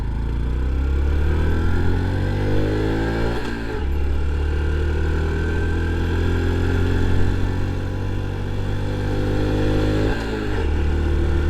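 A Honda Trail 125 motorcycle engine held at full throttle in third gear, a steady loud drone from close by with two brief dips, around 3.5 and 10.5 seconds, where the pitch drops and climbs again.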